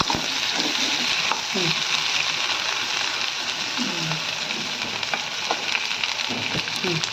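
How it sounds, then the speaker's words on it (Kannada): Onions frying in oil in a pan for aloo paratha, with a steady dense sizzle and occasional stirring scrapes throughout, no talk. "ನೆಕ್ಸ್ಟ್ ಈರುಳ್ಳಿ ಹಾಕ್ತಾ ಇದ್ದೀನಿ. ಅದು ಅಷ್ಟೇ ಚೆನ್ನಾಗಿ ಬಾಡಿಸ್ಕೊಬೇಕು. ಎಣ್ಣೆಲೆಲ್ಲ ಚೆನ್ನಾಗಿ ಫ್ರೈ ಮಾಡ್ಕೊಬೇಕು."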